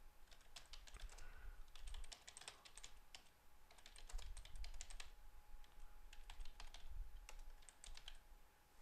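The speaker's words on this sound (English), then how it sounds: "Helps if I type." Bursts of typing on a computer keyboard during server configuration work, quick clattering keystrokes in several clusters with short pauses, close and fairly clear over faint room hum, no talking.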